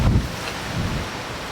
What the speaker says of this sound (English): Oh god, it's so windy.